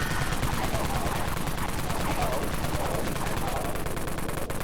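The Dawn Mag gun fires nonstop in the Dead Frontier video game, a dense, loud, rapid automatic burst of shots that runs unbroken from start to finish.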